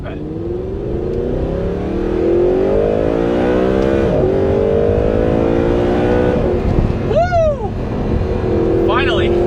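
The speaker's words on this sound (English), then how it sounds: "Finally, get to let loose on this V8. Downshift, downshift." An Audi R8's V8 engine revs hard and climbs through the gears, with sharp blips as it downshifts, loud and close from inside the car, and a voice shouting over it.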